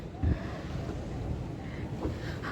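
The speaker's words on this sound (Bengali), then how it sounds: "এই যে আমাদের নৌকা আবার বেঁকবে" A river boat on a pleasure ride at Prinsep Ghat cruises along with a steady low engine and water rumble, wind buffeting the microphone and a couple of brief louder thumps.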